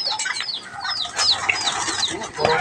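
Quality racing pigeons in a loft in Montalban, soft cooing calls mixed with short bursts of flapping wings, close and moderately loud, with no talk over them.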